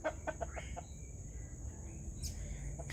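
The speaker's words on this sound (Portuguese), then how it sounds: "Você tá vendo a galinha, é?" A chicken clucks in short, close, rhythmic bursts at the start, then quieter calls trail off over a steady low outdoor background hum.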